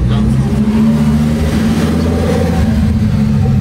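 A Lamborghini Huracán STO passes behind, its loud engine roar rising and fading steadily over a few seconds, heard from nearby with a constant low rumble throughout.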